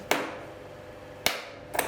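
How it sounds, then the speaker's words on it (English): Three sharp metallic taps on a stuck part of a Nikkor Ai 35mm f2 camera lens, struck with an improvised hammer; close and crisp, two spaced apart and then a quicker third. "Let's try using this thing and something as a hammer."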